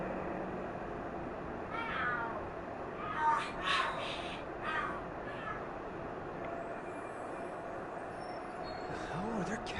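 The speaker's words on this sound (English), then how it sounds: "Oh, are there cats fighting? What are they screaming for?" Cats fight and scream in the video game Lost Judgment, with several yowls and wavering caterwauls rising and falling over steady city ambience, fairly close and loud.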